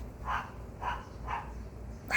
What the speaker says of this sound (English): I don't know if you can hear that dog